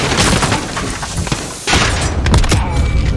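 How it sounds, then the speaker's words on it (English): R90 shotgun firing in Call of Duty: Modern Warfare, loud heavy booming blasts over constant battle noise, a few close shots with a brief dip between them. "The R90 shotgun."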